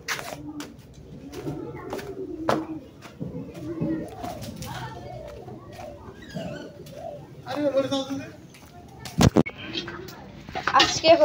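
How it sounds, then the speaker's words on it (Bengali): Pigeons at a home give low, soft coos scattered among the chatter of children playing and talking nearby, with the birds often partly buried under the voices. "এই যে কত সুন্দর কবুতর,"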